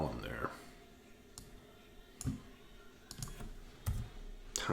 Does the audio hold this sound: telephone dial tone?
no